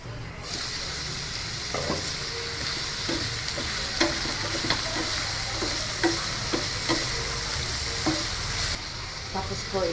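Carrots stirred in a sizzling pan for sweet and sour, steady frying hiss under repeated spatula scrapes and taps at an irregular pace.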